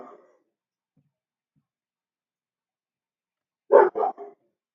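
A dog barks three times in a quick burst at moderate volume, after a long quiet stretch that opens with a brief muffled sound.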